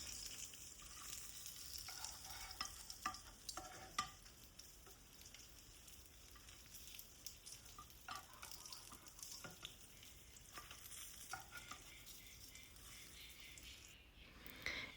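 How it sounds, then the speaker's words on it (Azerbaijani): A snack fries in a pan, giving a quiet, steady sizzle with scattered soft pops and crackles throughout, faint and close with no talking over it. "Hər iki özünü qızardıram."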